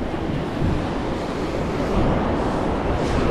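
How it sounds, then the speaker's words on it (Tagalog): Big ocean waves in cold, rough water with a strong current, heard from a fishing boat hauling in its net, a dense steady roar of surf mixed with wind buffeting the microphone, loud and close, with no speech. "Lalaki kasi ng alon mga kabansot to."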